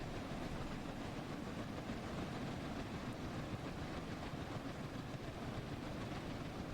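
Flying Scotsman steam train in Train Sim World 4 running at speed on the East Coast Main Line, a steady, dense rolling rumble of wheels and carriages at constant level throughout, with no voices.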